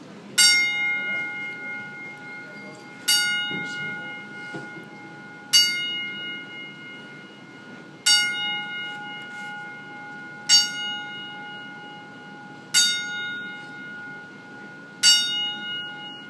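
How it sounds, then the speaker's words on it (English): A ring bell tolls a memorial ten-bell salute at a Real Canadian Wrestling event in Calgary, Alberta. Seven bright, evenly spaced strikes come about two and a half seconds apart, each ringing out and fading in a hushed hall. "we're going to have a 10-bell salute"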